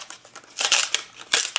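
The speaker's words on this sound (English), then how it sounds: "this is where my Scotch outdoor mounting tape comes in." Scissors cut through Scotch outdoor double-sided mounting tape during a drone flight controller build. Close, crisp snipping and crinkling comes in two main bursts with a few lighter clicks around them, and no one speaks.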